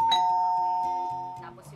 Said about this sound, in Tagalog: isang pindot lang sa kanilang biniling doorbell, present na kaagad ang kanyang anak